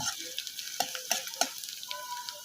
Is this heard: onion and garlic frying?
yes